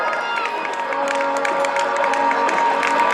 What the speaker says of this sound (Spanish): Ese aplauso para los últimos.